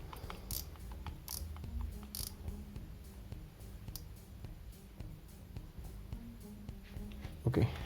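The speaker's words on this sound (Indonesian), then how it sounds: "Suara detik yang dari bagian spool sudah hilang" Steady mechanical ratcheting from the spool of an Okuma Komodo KDR364LX fishing reel, a close, quiet run of rapid ticks and clicks with no talking.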